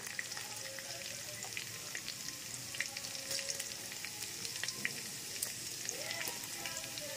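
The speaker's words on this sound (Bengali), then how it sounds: "এইবারে এই তেলের মধ্যে আরেকটু তেল নিয়েছি। প্রথমে দিয়ে দেবো রসুন কুচি" Chopped garlic frying in hot oil over a high flame, a steady soft sizzle with faint crackles and small pops throughout, heard close with no talking.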